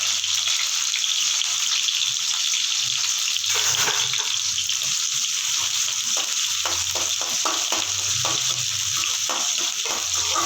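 Onions frying in oil with popped mustard seeds, dried red chillies and curry leaves, a steady close sizzle running throughout with soft stirring scrapes, no voices.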